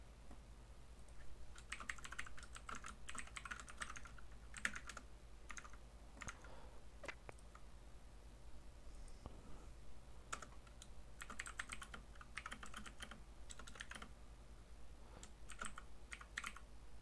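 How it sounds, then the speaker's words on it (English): Typing notes on a computer keyboard, fast bursts of clicking keys separated by short pauses, close but quiet over a faint steady hum, with no talking. "I was typing up my notes."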